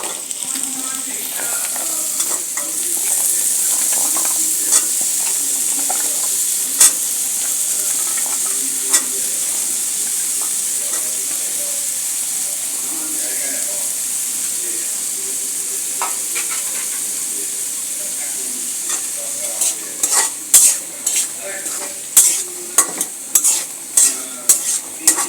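Cubed potatoes fry in a pan with a steady bright sizzle and frequent scraping stirs, the stirring turning into quicker, louder clatters of the utensil toward the end.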